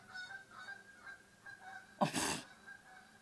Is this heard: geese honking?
yes